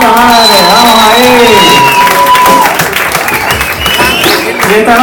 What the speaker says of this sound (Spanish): Fuerte el aplauso para Filipón,